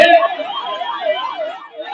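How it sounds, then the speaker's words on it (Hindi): An ambulance siren wails in a rising and falling cycle as it passes through a crowd at a Ram Navami street festival, loud and close, with voices mixed in around it. "एम्बुलेंस को जाने दीजिए, रास्ता खाली कीजिए, गाना बंद कीजिए"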